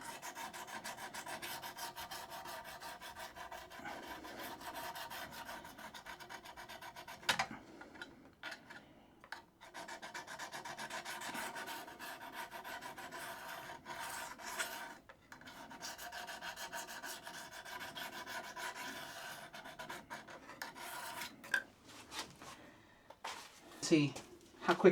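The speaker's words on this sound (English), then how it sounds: "It takes a few seconds to just sharpen the very, very edge of it" A draw knife edge being sharpened, with steady scraping and rasping strokes of abrasive against steel, close and fairly quiet, broken by brief pauses and a few ticks and clanks of the blade in a vise.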